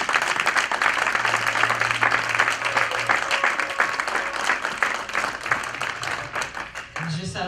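A church congregation bursts into loud, sustained applause and clapping for the fathers, with the clapping fading near the end as a voice comes back in.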